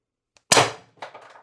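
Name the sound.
CO2 airgun firing 7.3 gram solid aluminum ammo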